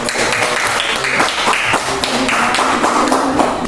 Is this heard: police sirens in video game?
no